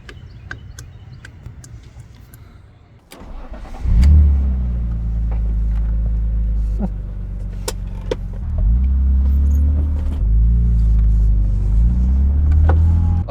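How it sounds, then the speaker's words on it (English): A BMW E36 M3 with 250,000 miles starts up after a few clicks and a lull, then its engine rumbles loudly and steadily, rising in pitch as it revs and drives off. "we are driving the M3"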